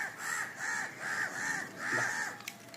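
A crow caws four times in a steady, evenly spaced rhythm, moderately loud over a constant outdoor background hum.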